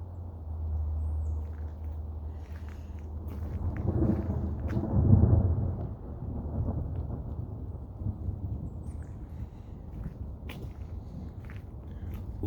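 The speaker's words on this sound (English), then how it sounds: "Love that thunder." Thunder rolls through a freezing-rain storm outdoors, a deep rumble swelling to a peak partway through and fading slowly, with rain and light rustling steady underneath.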